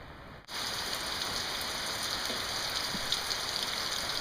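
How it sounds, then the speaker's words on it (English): Heavy rain falls steadily during a tropical storm, a dense continuous patter that stays constant and loud after a brief cut at the start, with no voices. "It's still raining."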